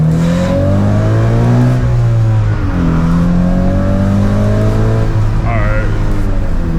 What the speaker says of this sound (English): after like 3K RPMs you should be able to hear the intake.